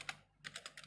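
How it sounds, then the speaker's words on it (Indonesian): A few quick keystrokes on a computer keyboard as a network configuration command is typed, faint and close, with a short gap between taps. "Lalu kita ketikkan lagi yaitu version"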